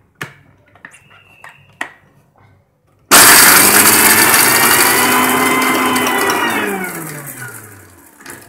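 Blender motor roars on abruptly after a few soft handling clicks and taps, grinding almonds into powder loudly and steadily, its pitch sagging slightly toward the end as the nuts break down.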